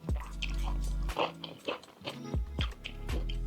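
Crunchy cooked greens, likely beans, chewed close to the mic at a home dinner of steak and mashed potato, with bursts of crisp biting and munching separated by short pauses.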